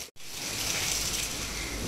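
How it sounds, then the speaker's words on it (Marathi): Light rain falls during sunshine, heard as a steady, soft broadband hiss that continues evenly after a brief cut at the start. "सगळा उजेड ऊन पडतंय आणि थोडं पाऊस पडतोय यार"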